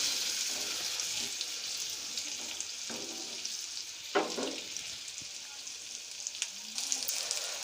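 Beef steak bites sizzle and fry steadily in melted butter in a pan, a continuous close crackle with a few brief louder spits and stirring clicks, no talking.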